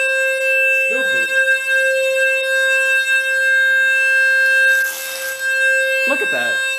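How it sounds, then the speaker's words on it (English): A fire alarm siren sounds at night as a loud, piercing steady tone with harmonic overtones that runs throughout. Someone speaks briefly over it, and there is a short burst of noise near the end. "Broken ass siren."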